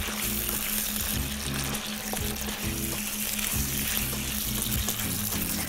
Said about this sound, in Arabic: عايزين بقى الكرشه تتحمر تحميره حلوه